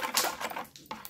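A spoon clinks and scrapes in a bowl, mixing salt and spices into ground almond chutney. The quick, light taps are close and short.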